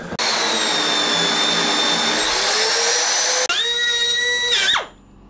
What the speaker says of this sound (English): Right then, let's drill a hole in here.